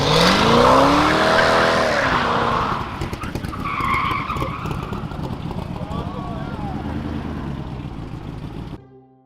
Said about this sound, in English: This Corvette guy tried to drift, but ended up sliding on the road and crashing into a curb